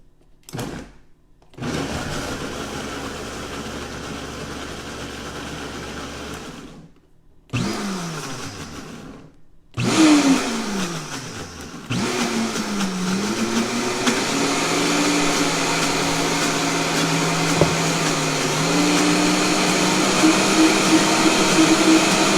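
A blender roars loudly in several runs, stopping and restarting, with its motor pitch dropping and rising as it churns peaches.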